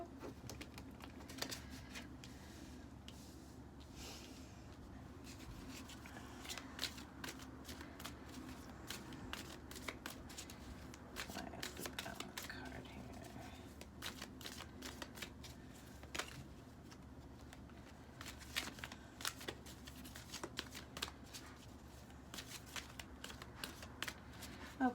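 Tarot cards shuffled steadily for a long stretch, a continuous papery riffling and patter at moderate level with no talking over it.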